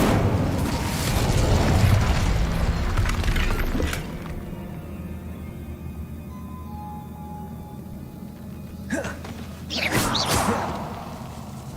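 The Incendio fire spell in the video game Hogwarts Legacy, a burst of rushing whoosh and crackling blast that fades into a low hum, followed by a second fiery flare a few seconds later.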